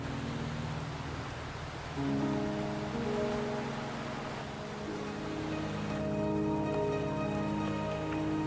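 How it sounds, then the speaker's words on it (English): Rain falls steadily in the video game Wuthering Waves, a dense even patter on surfaces that carries on throughout, with soft tonal game music underneath and no voices. "Are you trapped here by the rain?"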